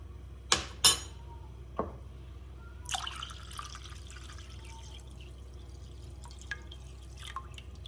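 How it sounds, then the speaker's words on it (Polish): Water splashes into a container of lemon juice and pulp for homemade lemonade, with two sharp pours, a few drips, then quieter clinks and light stirring sounds, nearby and alone without talk. "za chwilkę doleję do niego wodę i dokładnie wymieszam"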